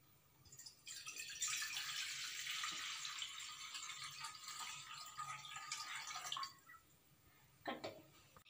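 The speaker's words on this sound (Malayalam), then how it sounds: "നമുക്ക് ഇതിലേക്ക് അര കപ്പ് വെള്ളം ഒഴിക്കാം" Half a cup of water is poured into a pot on a stove for instant palada payasam, a close, continuous splashing pour lasting several seconds before stopping, followed by a brief clink.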